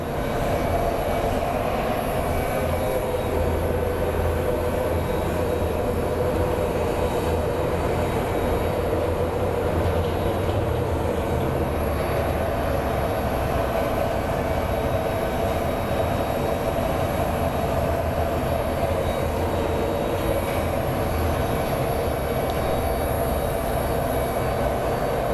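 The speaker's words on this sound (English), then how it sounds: "So up next we have a Contour Aviation Embraer coming in" A Contour Aviation Embraer airliner coming in to land at Phoenix Sky Harbor International Airport gives a steady, loud broadband rumble that holds for the whole stretch, with no talking.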